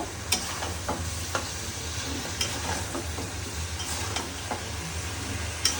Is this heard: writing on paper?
no